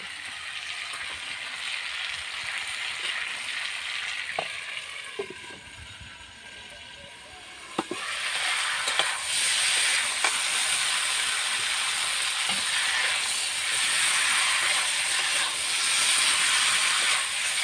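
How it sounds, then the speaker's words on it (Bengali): Cauliflower sautés with spices in a pan, a loud continuous sizzle and hiss that swells louder halfway through, with occasional scrapes and clinks of stirring and no talk. "ফুলকপিটা আমি মশলার সাথে খানিকক্ষণ ভালো করে কষিয়ে নেব"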